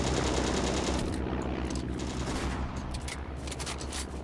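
Machine gun fire in the World War II tank game Steel Fury during Operation Barbarossa, a long rapid rattling burst that is loud, close and continuous from start to finish, with no talk.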